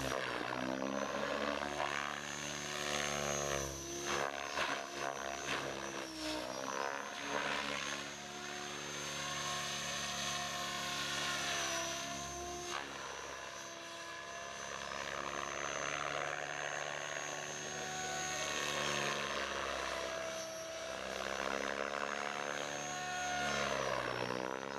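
Small RC helicopter flying steadily throughout, its rotor and motor whine holding a continuous tone that shifts in pitch as it maneuvers, loud and close with no talking.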